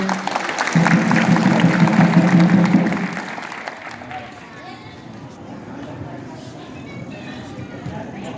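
An audience claps at a political speech event in Dumka. Loud, dense clapping fills the first three seconds, then fades to a low murmur, and a voice speaks over it.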